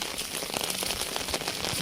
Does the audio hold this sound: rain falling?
yes